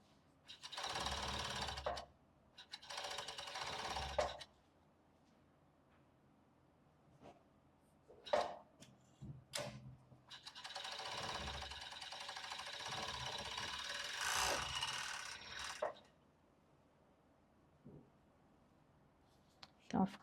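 Sewing machine stitching a lace bra without padding in bursts of steady whirring rattle, several runs of a few seconds each separated by pauses with small clicks and handling noises, close and fairly quiet.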